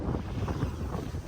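Steady wind buffeting the microphone outdoors, a low continuous rumble with gusty swells, faint and unbroken.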